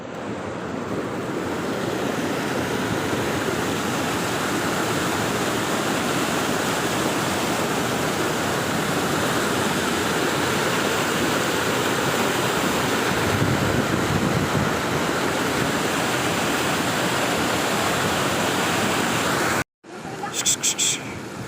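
Loud, steady roar of floodwater rushing over a weir fills the scene without pause, broadband and close, with wind buffeting the microphone; it cuts out briefly near the end.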